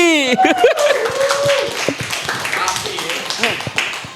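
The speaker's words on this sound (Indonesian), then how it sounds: "Oke tepuk tangan buat Eski." Studio clapping for a guest on an Indonesian football talk show: a host's voice opens, then scattered hand claps and light chuckles follow, close and mixed with ongoing chatter.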